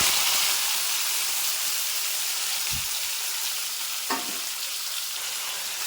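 Garlic, coriander, pepper and curry leaves dropped together into hot oil, a loud, steady crackling sizzle up close, with a couple of brief knocks from a utensil against the pan.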